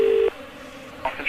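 A telephone dials a call to security: a short steady tone, then brief beeps of keypad tones after a pause, close and fairly clear with no talk.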